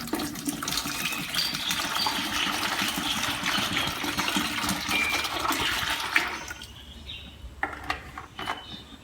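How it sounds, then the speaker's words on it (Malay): Water gushes steadily into a bucket for about six seconds while a hydroponic nutrient mix is being prepared, then stops, leaving a few faint clinks and drips; no one speaks. "Langkah pertama adalah kita masukkan air dalam baldi."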